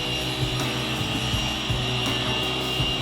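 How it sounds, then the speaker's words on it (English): A sanding product works over the paint on a rebuilt Ford GT Falcon, a steady abrasive rubbing hiss with faint rhythmic strokes underneath a constant mechanical drone. "Now I'm using a product here, a sanding product."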